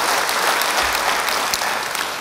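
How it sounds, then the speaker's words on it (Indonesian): A church congregation applauds loudly and steadily in a dense, continuous wash of clapping that fills the room, with no voices standing out above it. "Yang percaya beri tepuk tangan bagi dia."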